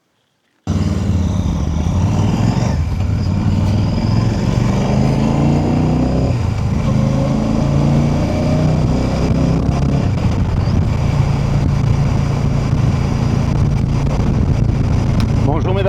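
Royal Enfield motorcycle ridden on a fast road, with a loud, steady engine drone and heavy wind rumble that keep going without pause after a brief silent start.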